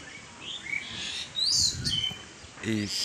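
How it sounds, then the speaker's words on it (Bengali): Pet pigeons of the Teddy breeds, Saki Teddy and KTM Teddy, call from their loft in short, faint chirps and tweets, scattered over a few seconds with a brief lower call near the end. "এই দেখেন কবুতর"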